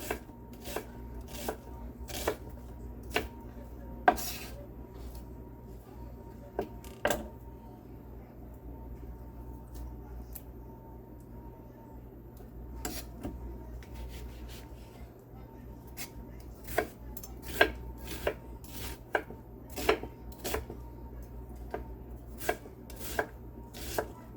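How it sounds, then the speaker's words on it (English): A knife chopping onions on a cutting board in a home kitchen, sharp knocks in quick irregular bursts with short pauses, close and clear over a low steady hum, no talking. "I am cutting my onions like this."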